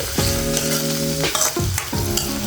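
Curry leaves fry in hot oil in a pan for a dry fish curry, with a dense crackling sizzle and ringing metallic scrapes as a utensil stirs against the pan, close and loud with no talking.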